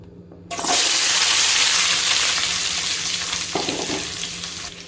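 Cut vegetables drop into hot oil in a pan and fry over a low flame, a sudden loud, steady crackling sizzle that continues close by, with a brief stirring clatter partway through.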